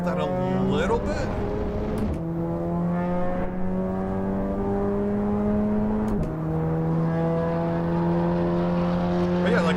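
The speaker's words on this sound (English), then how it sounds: "Now you're hearing this reflection of the engine hitting that wall right there." A race car engine in Assetto Corsa Evo drones loudly and steadily at high revs, pitch shifting with gear changes as its sound reflects off a trackside wall, with a voice talking over it.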